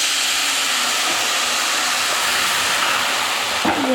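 Steady hiss of water poured onto sugar in a hot pan while making Kerala ariyunda from ration rice, a broad sizzling wash throughout with a sharper burst near the end.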